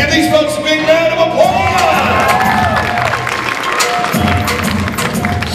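A school grad-night hypnotist show audience breaks into loud applause with cheers and whoops, a dense crowd roar that stays strong throughout, with a voice talking over it.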